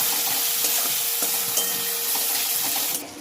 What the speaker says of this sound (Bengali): আমি পেঁয়াজ ভাজার মধ্যে একটু জল দিয়ে দিলাম, পেঁয়াজটা ভালো করে ভেজে নিয়েছি।